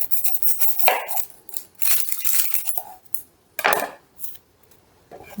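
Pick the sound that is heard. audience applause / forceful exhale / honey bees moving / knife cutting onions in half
knife cutting onions in half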